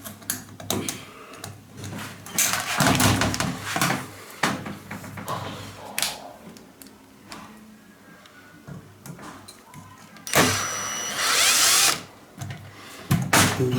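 A power drill tightening the wheels of a shower cabin door, with short drill bursts, rattling parts and handling clatter at close range, and one louder sustained burst near the end.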